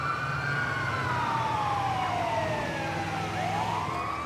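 Wailing ambulance siren from the GTA 5 video game, its pitch sweeping up and down continuously over a low engine rumble, loud and steady with no talk.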